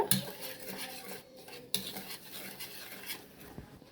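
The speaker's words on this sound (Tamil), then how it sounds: "எல்லாம் ஒரு சேர மிக்ஸ் பண்ணி விட்டுக்கோங்க" Rava cake batter with a pinch of salt being stirred in a bowl, a spoon clinking and scraping against the sides in quick irregular strokes with a couple of sharper knocks, fairly quiet and close.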